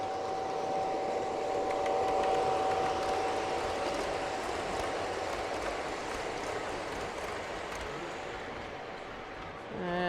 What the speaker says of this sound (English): we've got a circus train.